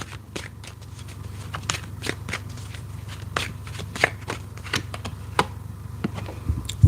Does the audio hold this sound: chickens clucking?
no